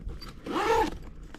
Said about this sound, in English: they have nice heavy zippers on it, and you have a divider in here